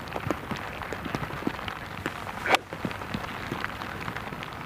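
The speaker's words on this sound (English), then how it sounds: "Sounds, doesn't it, like that rain is really beginning to come down again hard." Heavy rain falls steadily on the Royal Troon golf course during the Open Championship, a dense, continuous patter with a sharp knock partway through.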